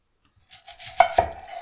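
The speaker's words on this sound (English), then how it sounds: "we're going to chop the onions" A knife strikes a cutting board two sharp times as onions are chopped, followed by softer scraping and rustling.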